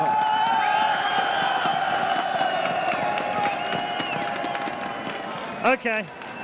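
Crowd cheering and clapping in an esports arena during a League of Legends quarterfinal at IEM São Paulo, a loud sustained roar with whoops that ends in a short burst of shouting.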